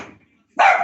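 A single loud dog bark close by, following a softer whine or short yelp and a brief silence.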